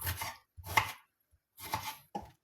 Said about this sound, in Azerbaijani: bax beləcə xırda-xırda doğrayırıq